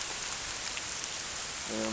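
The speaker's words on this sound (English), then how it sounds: "it's still raining very heavily, and it's a bit windy as well." Steady, dense rainfall pattering hard on surfaces close by in Lamlash on a windy day, a constant hiss that continues unbroken with a faint low hum entering near the end.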